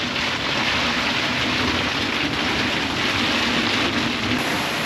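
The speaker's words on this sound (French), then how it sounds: "Allez, il pleut." Rain falls on an anchored boat, a dense continuous hiss of drops drumming on the surfaces at steady loudness, with no talking.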